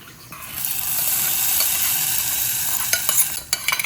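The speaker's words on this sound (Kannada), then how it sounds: "ಸೊ ಈ ಒಗ್ಗರಣೆನ ಇಲ್ಲಿ ಮಿಕ್ಸ್ ಮಾಡ್ಕೊಳ್ಳೋಣ" Hot tempering sizzles loudly and steadily in a pan as it is mixed into a dish, ending in a few quick clattering stirs against the pan.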